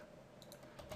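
A few faint keystrokes tapped on a computer keyboard in quick succession, quiet and close, with no voices.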